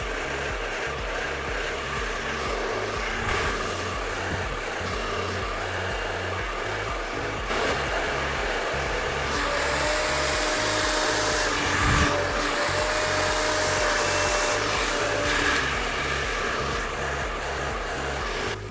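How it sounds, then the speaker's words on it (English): A hair dryer with a concentrator nozzle roars steadily and loudly throughout while drying hair, its airflow shifting slightly in pitch as it moves, with faint handling sounds. "now I'm gonna start to blow dry the hair, starting in the back"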